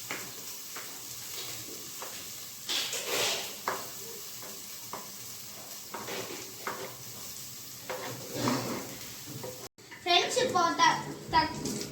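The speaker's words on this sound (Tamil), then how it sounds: "இப்போ வெங்காயம், கருவேப்பிலை, இஞ்சி, பச்சை மிளகாய் எல்லாம் வேகுது" Onion, curry leaves, ginger and green chilli frying in a pan for semiya, with a steady sizzle and repeated stirring scrapes, a voice audible in the background and a brief louder clatter near the end.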